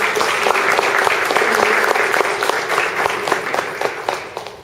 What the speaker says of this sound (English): So if we could just give a round of applause for the MSA and all the trainers